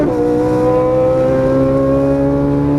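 A Ferrari 458 Italia engine revs hard on a race track, a loud continuous wail climbing steadily in pitch as the car accelerates through the gears, with no voices over it.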